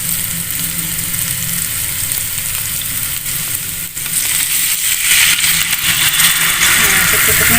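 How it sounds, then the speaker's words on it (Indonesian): Spice paste sizzles loudly in a pan as water is added for a sardine semur, the frying hiss growing brighter and denser in the second half, with stirring and a faint low engine-like hum beneath. "Masukkan airnya."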